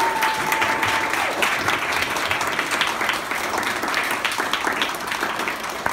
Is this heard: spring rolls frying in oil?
no